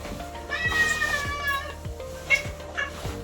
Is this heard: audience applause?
no